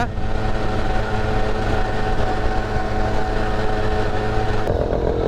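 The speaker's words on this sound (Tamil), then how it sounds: "இந்த வண்டியோட சவுண்டு வந்து RX 100 சவுண்டு மாதிரியே இருக்கும். இது வந்து சுசுகி மேக்ஸ் 100" A Suzuki Max 100 two-stroke motorcycle engine hums loud and steady while riding along a Kolli Hills road, a close, even drone with constant low rumble and no talk.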